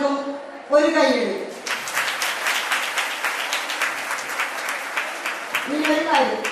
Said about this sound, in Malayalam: ഒരിക്കൽ കൂടി ഈ സമ്മാനം വാങ്ങിച്ച എല്ലാവർക്കും ഒരു കയ്യടി.